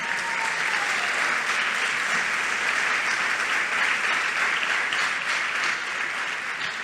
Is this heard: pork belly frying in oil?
no